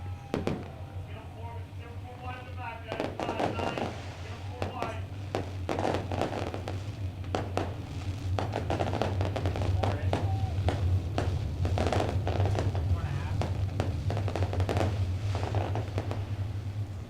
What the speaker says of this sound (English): I want to thank Lone Wolf Fireworks for lighting up the sky.